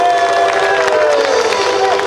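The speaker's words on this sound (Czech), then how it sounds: "potlesk pro něj" Audience at a live band concert in Most cheers and applauds for the sound engineer, a loud, dense crowd noise with whistles over it, steady for about two seconds.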